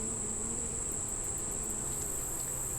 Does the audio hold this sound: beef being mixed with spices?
no